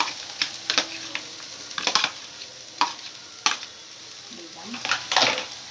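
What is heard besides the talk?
green chilies and onion frying over high heat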